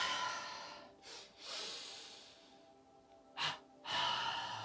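Deep yoga breathing through the nose: a short inhale, a long steady exhale, then another inhale and a long exhale, close and soft with no talking.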